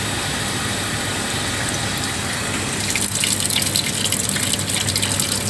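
Water rushes steadily into the tank of a flowmeter apparatus in a fluid mechanics lab, a loud continuous gush that grows brighter and more splashy partway through, with no talking.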